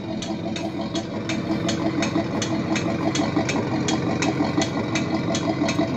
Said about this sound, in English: you just give it a rev